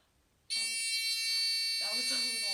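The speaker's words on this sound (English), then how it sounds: "So I'm going to turn on my switch and then there's going to be a buzzing noise." After a brief quiet moment, a loud, continuous electronic buzz from a circuit-kit buzzer switches on abruptly and drones steadily, with faint voices murmuring underneath.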